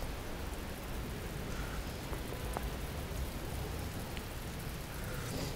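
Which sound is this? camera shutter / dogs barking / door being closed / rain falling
rain falling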